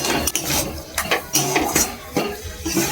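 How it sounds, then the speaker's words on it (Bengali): Red spinach kachori filling being stirred and dried in a pan: repeated metallic scrapes and clinks of a spatula against the pan in an uneven rhythm, close and fairly loud, with no speech. "ভালো করে নেড়ে চেড়ে আমাকে শুকনো শুকনো করে নিতে হবে।"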